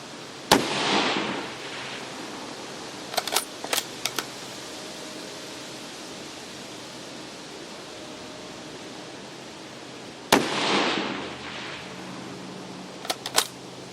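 Two sharp rifle shots from an FSR89 target rifle built on a Swedish Mauser m/96 action, fired about ten seconds apart at a fast pace, each loud crack trailing off into a short echo, with quiet clicks of bolt handling between shots.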